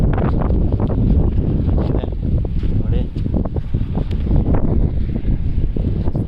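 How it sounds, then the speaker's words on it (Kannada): Steady wind buffets the microphone with a low roar throughout, while a person speaks over it, on snowy Mullayanagiri peak in India amid mist and snowfall. "ಹೀಗೆ ಗಾಳಿ ನಮಗೆ ಬರುತ್ತೆ"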